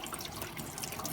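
A butter knife is rinsed under a running kitchen tap, a steady close splash of water into the sink with no talk.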